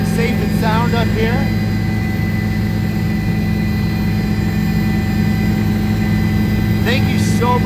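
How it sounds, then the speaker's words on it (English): A helicopter from a sheriff's aviation unit in flight gives a loud, steady engine and rotor drone with a constant low hum throughout, while voices and radio chatter come through faintly over it. "We've had a blast going up here in the helicopter"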